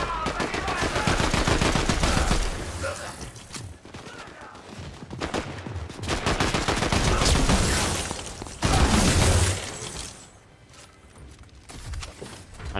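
Heavy gunfire in Fortnite, with dense automatic bursts and rapid shots that nearly fill the stretch, loud and close, easing off briefly near the end.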